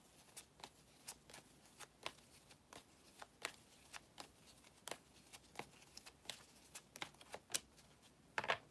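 A numerology card deck being shuffled, giving faint, crisp riffling snaps at an irregular but steady pace, close by in a quiet room with no talking.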